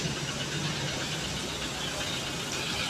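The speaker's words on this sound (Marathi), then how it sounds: "ह्या गाडीचा आवाज येतो" A car engine hums steadily in an echoing parking area, a continuous mid-level drone with a reverberant rumble and no talking.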